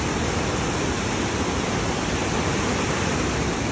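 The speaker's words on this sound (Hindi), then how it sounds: "ये नदी की जो आवाज़ है इसकी आदत पड़ जाती है" A river in the Parvati Valley rushes in a dense, loud, continuous roar of flowing water, filling the scene without pause or voices.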